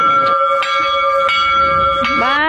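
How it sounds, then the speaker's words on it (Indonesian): A church bell rings loud and close, its sustained tone pulsing with repeated strikes and swelling at the end. "Lonceng gereja udah bunyi nih kan."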